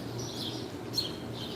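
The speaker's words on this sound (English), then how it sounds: "I'm still listening to the sound of the birds." Birds singing outdoors on a chilly, rainy morning, faint chirps and a brief sharp tweet over a low steady background hum, distant and soft.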